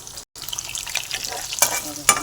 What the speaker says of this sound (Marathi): आता हे मस्तपैकी परतून घेते मंद गॅसवर